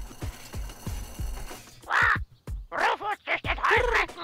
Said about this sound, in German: Taube aus großem Taubenverschlag wird gestartet.